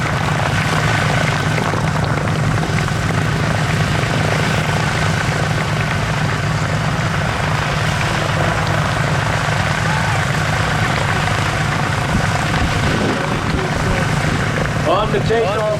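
Propeller aircraft engine drones steadily on the takeoff roll at a WWII weekend air show in Reading, Pennsylvania, a continuous loud rumble with a public-address announcer talking over it.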